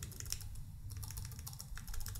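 Computer keyboard keys, shortcut combinations with Shift and bracket keys, pressed in a quick run of clicky taps that are close and clear, with no talking.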